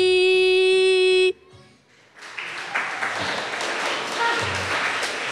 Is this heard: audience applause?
yes